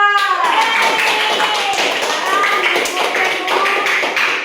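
In a fifth-grade classroom, a class of students claps for a student group, a fast dense patter of many hands at close range that carries on steadily over a sustained tone and voices.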